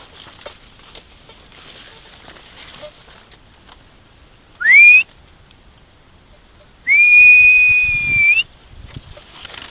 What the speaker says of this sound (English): Just whistling. Let everything know I'm here.